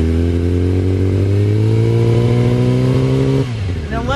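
A Yamaha R6 sportbike engine revs up smoothly as the throttle is twisted, pitch climbing steadily toward about 4,000 RPM before the throttle is released and the revs drop.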